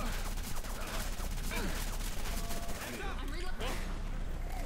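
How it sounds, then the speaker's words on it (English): Rapid bursts of gunfire from the video game Left 4 Dead 2 in a haunted forest map, loud and near, with overlapping shots and crashes crackling continuously and a few voices mixed in. "Why are you shooting me?"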